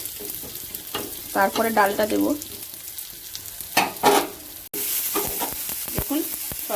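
Dry red chilli, panch phoron, whole cumin, asafoetida and bay leaf sizzle in hot oil for a vegetarian dal tempering, with close stirring and scraping in bursts while someone speaks over the frying.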